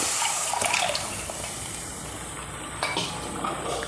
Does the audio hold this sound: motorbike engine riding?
no